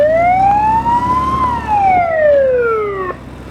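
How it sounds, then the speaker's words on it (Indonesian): A police siren on a Kawasaki KZ1000 Police motorcycle wails loud and close, sweeping smoothly up and then back down in pitch over a low background rumble. "Karena ini motor polisi, maka masih ada sirennya."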